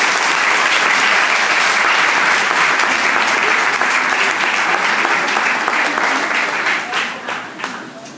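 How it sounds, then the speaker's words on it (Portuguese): A church congregation applauds at a Portuguese-language service, a dense, steady wash of many hands clapping close by that holds for several seconds before tapering off near the end. "Vamos aplaudir os irmãos."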